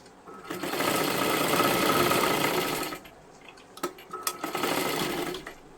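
A sewing machine stitches a frock sleeve in one steady motorised run lasting a few seconds, then stops and restarts in short, uneven bursts, close by and with no talking.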